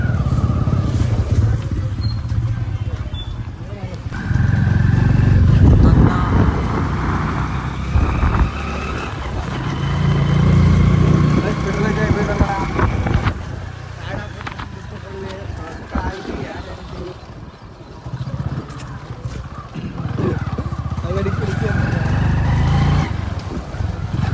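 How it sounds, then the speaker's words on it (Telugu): A motorbike rides to a shop in cool weather, its engine droning and rising and falling over road noise through the ride, while someone talks over it at intervals. "అయితే మోటార్ తీసుకుని మళ్ళీ షాప్ పోతున్నాం."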